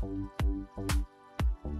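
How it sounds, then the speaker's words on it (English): A thick cornstarch and water mixture is stirred, giving three or four wet, sucking squelches, each with a sharp gloopy pop, close up with nothing else heard. "Now 1 scoop of water, and you have to start stirring."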